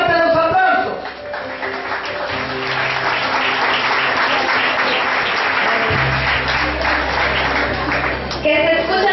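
Loud, sustained applause fills a graduation ceremony hall, a dense wash of clapping hands that runs throughout, with an amplified voice and musical tones at the start and end.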